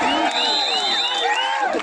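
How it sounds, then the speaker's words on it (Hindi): Crowd cheering and whooping at a kabaddi final in Bilaspur, with steady applause under it and bright shrill whistles and shouts rising throughout, loud and continuous. "तालियां बजती रहे साथियों।"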